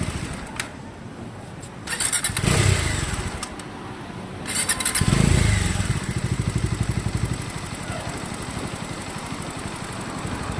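Motorcycle engine idling steadily during a roadside pollution check in Ladakh, with two louder revving surges rising and falling before it settles back to a steady idle.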